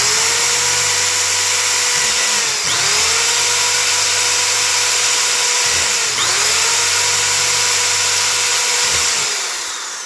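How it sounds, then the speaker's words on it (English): A power drill boring three holes downward into a homemade prop sword edge-marking tool, each run a loud steady whine that rises, holds, then drops as the bit is lifted, with short pauses between. "I'm going to set the drill bit down in the little divots we created earlier, and I'm going to drill downwards"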